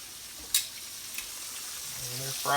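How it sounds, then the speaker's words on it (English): Morel mushrooms sizzle and crackle in a hot frying pan, a steady close hiss with a couple of sharp pops and stirring scrapes, swelling louder at the end. "And they're frying now."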